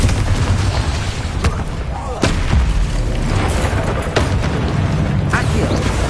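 Fire spell casting in Hogwarts Legacy on PS5, a loud roaring burst of magical flame with sharp cracks and rumbling booms layered over dense game noise, repeated several times in quick succession.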